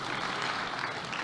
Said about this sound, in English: I would like us to welcome her with a clap.